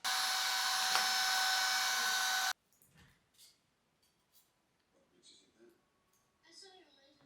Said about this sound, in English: Let me get the vacuum.